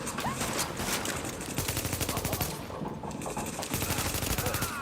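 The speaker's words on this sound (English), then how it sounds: "Warning, supplies taking fire." Sustained rapid automatic gunfire aimed at supplies in The Division, loud and continuous with dense overlapping shots and a brief dip midway.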